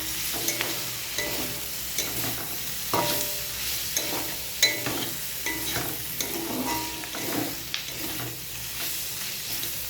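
Fish sizzles and fries in a covered pan while being stirred, a steady close crackle broken by repeated scraping stir strokes, with no talk.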